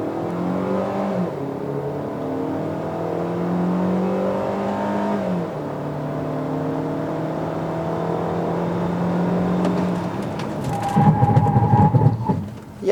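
A Hyundai Creta 2.0 in Sport mode launches and accelerates hard from 0 to 100 km/h from inside the cabin, its engine note rising through gears with clear pitch drops at each shift, steady and loud.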